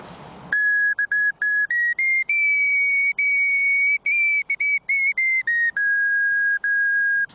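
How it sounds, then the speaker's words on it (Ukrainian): A zozulytsia, a Trypillian-style clay whistle, played in a clear, loud, pure whistling tune of short and held notes that step up and down in pitch, alone without talk. "Щоб вміти грати на такому свищику, музична освіта зовсім не потрібна."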